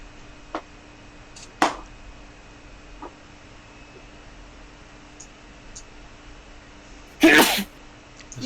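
A single sharp sneeze bursts out near the end, loud and close, among a few faint clicks and soft background hiss at a tabletop role-playing game session.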